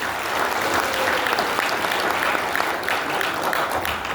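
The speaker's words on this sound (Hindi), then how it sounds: "एक बार जोरदार ताली बने दोस्तों।" Loud, dense applause from an audience at a company launch event for a marketing firm, with many hands clapping in a continuous roar that stays strong and even throughout.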